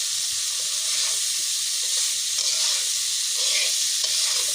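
Pangas fish fries in a pan with chopped green chilies, producing a loud, continuous sizzling hiss with faint scraping from stirring underneath and no talking.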